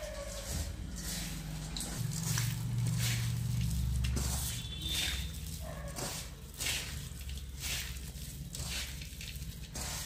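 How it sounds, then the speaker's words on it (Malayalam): Hands squish and knead garam masala and other spices through food in a bowl, a steady wet mashing and patting that runs close and continuous throughout. "ഇനി എല്ലാം കൂടി കൈകൊണ്ട് മിക്സ് ചെയ്യാം."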